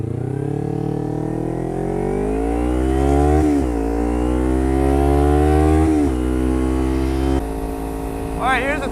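A motorcycle engine in the GTA San Andreas multiplayer mod SA-MP drones steadily as it rides, its pitch climbing under acceleration with brief dips at gear changes before the tone drops and settles; a voice may be talking over it.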